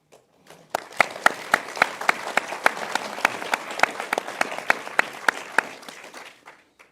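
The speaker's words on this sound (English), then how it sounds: "A round of applause for this panel." An audience applauds a panel at an evening book talk on Constitution Day, with sharp individual claps standing out over a softer crowd clap, building quickly and then fading out after several seconds.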